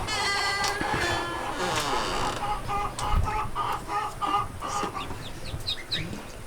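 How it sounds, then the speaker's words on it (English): Baby goslings kept indoors in a brooder chirp and peep in high, repeated calls, with the thin peeps clearest toward the end over a busy background of other soft bird sounds. "So now we are up to 7 baby goslings in here"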